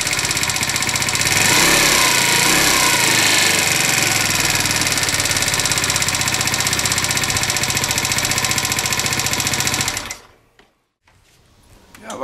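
A 50cc four-stroke scooter engine fitted with a 90cc kit runs with a loud, rapid, buzzing idle for about ten seconds, then cuts off abruptly into near silence before faint noise returns.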